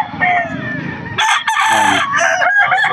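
A young rooster, a stag, crows loudly and close at a busy pet market in Bocaue, with a long harmonic call in the second half over a bed of background market noise and faint voices.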